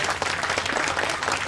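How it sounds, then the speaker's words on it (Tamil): An audience at a Tamil-language talk claps in a brief, dense, even burst of applause filling the whole moment. "கைத்தட்டல் வாயிலாக."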